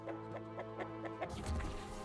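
A human voice imitating a chicken, giving a string of quick rhythmic clucks followed by a louder, drawn-out squawk, fairly faint and close.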